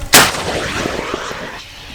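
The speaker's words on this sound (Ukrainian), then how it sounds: "Постріл!" A single loud gunshot from marine training cracks sharply, then a long rumbling echo rolls away and fades over the following seconds.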